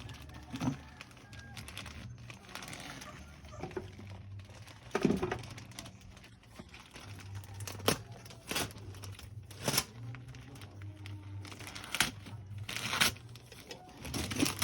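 Paper and packaging crinkle, tear and rustle as a wedding gift is unwrapped, with sharp intermittent ripping bursts over a low background hum and quiet voices nearby.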